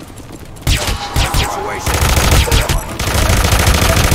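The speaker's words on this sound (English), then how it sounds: "Heard a gunshot." Rapid automatic gunfire erupts in the video game Hitman: Absolution, loud bursts of machine-gun shots rattling in quick succession over several seconds, with a brief startled exclamation from a voice.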